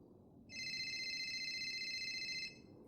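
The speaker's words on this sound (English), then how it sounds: "my phone's going off like crazy" A phone rings with a bright, steady electronic tone that starts abruptly, holds for about two seconds, then cuts off, over a low background murmur.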